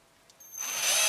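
Power drill used while sculpting a figure, a brief high whine that spins up from quiet and holds steady, close and fairly loud.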